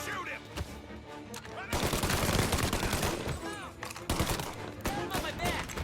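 Gunfire in the Mafia: Definitive Edition video game comes as dense, loud volleys of rapid shots and bursts, with shouted voices mixed in among the shooting.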